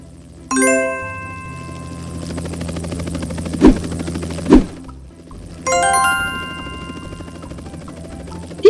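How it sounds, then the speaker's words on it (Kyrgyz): A helicopter sound effect from a children's cartoon about vehicles: loud whirring bursts with bright chiming tones, separated by two short thumps, near and prominent. "тик учак"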